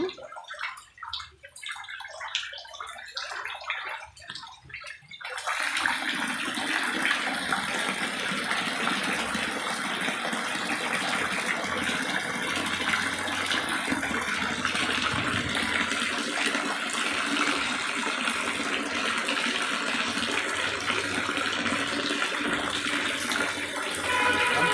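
Floodwater gushes and drains away from a flooded house after nonstop rain, starting as a lighter trickle and then swelling after a few seconds into a loud, steady rushing torrent that holds to the end.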